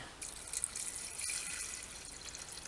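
Demineralized water is poured over old Soviet transistor parts, a steady close splashing pour that runs without a break from start to finish.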